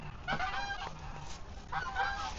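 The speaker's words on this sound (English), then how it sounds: "So I don't know what these are. Ducks? Geese, I think. But there's a lot of them." A large flock of geese on a big rural pond honks in two loud clustered bursts, near and overlapping, with quieter calls in between.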